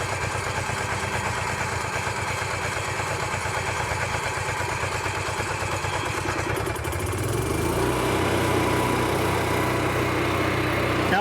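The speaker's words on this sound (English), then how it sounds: "And then I'm going to go ahead and hit start." A living quarters horse trailer generator, set up for high altitude, cranks over and fires up; a steady engine drone runs throughout, changing character midway as it catches and settles into a louder, smoother run, with no talking.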